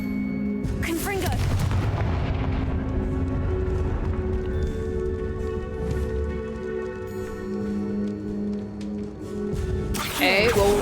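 A Confringo fire spell bursts in Hogwarts Legacy, with a sharp blast near the start and another near the end, set against dense, continuous in-game music.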